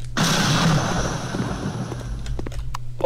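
A video game explosion in Potato Thriller booms suddenly, then a rushing, rumbling roar fades slowly over a few seconds, heard alone.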